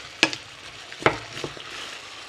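Onions and capsicum tossed into a hot pan, giving a few sharp clatters of stirring over a soft, steady sizzle of frying, close up and quiet with no voices.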